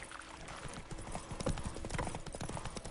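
Roach the horse from The Witcher 3 walking, a close, regular clip-clop of hooves on the ground, steady and unhurried, with faint ambient sound underneath.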